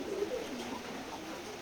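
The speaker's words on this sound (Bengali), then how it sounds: "এটা আমাদের ফার্ম হাউস কবুতর খামার।" Pigeons at a village pigeon farm in Keshabpur, Jessore, giving a soft, fairly faint low coo in a brief burst against quiet background hum.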